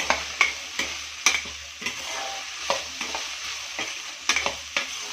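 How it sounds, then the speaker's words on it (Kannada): Okra frying in a pan, a soft steady sizzle punctuated by sharp, regular clacks and scrapes of a spatula stirring, close and fairly quiet, with no speech. "ಇಲ್ಲಿದೆಲ್ಲ ನಾರೆಲ್ಲ ಹೋಗೋವರೆಗೂ ಫ್ರೈ ಮಾಡಿದ್ರೆ ಚೆಂದ ಬೆಂಡೆಕಾಯಿ"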